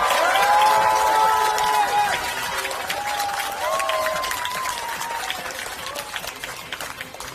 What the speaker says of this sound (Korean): 우리 큰 박수로 이재명 대표님 환영합시다.